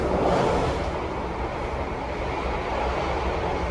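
Steady low rumble and rhythmic rattling inside a passenger train carriage running at about 95 to 100 km/h, continuous and moderately loud with no talking.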